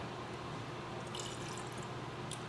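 Wine sample from a Winexpert Vintners Reserve kit poured into a hydrometer test jar: a steady close trickle of liquid with faint splashy drips, continuous for a couple of seconds.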